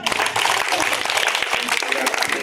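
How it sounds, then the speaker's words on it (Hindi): A village crowd claps loudly in a dense, continuous patter around a street madari performer's comedy show, with no clear pauses across the stretch. "बजाओ ताली जोर से"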